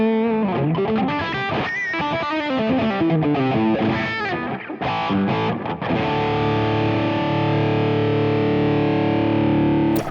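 Electric guitar with stacked drive runs through a custom Fractal Audio FM3 preset, a thick, saturated tone with quick strummed and picked passages that settle into a long, sustained ringing chord, loud and unaccompanied.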